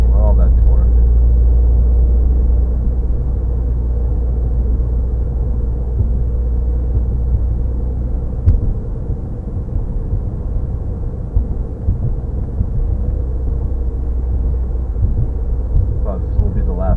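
A 2015 Subaru WRX engine pulls uphill in fifth gear at about 40, a loud, steady low drone and rumble that holds evenly throughout.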